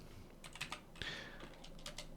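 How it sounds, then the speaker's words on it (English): Quick bursts of typing on a PC computer keyboard, with several short clusters of light key taps close up and no talk. "So I'm going to be typing in here Windscribe just like that."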